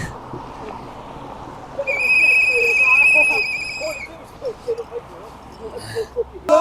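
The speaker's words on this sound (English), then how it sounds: "Lots and lots of whistles." A shrill, sustained whistle blast rises over a noisy crowd of protesters outside a hotel for about two seconds, followed by shouting and a few shorter whistle bursts.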